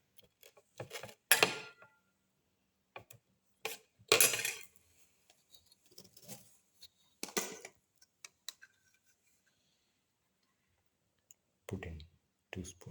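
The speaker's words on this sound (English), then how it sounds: "Crush all the ingredients together." Omelette ingredients get crushed together in a bowl or mortar, a series of scattered, uneven clicks and scraping knocks, mostly short and separated by silence, close and moderately loud.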